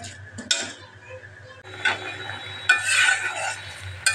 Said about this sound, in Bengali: কষানো হচ্ছে তরকারিটা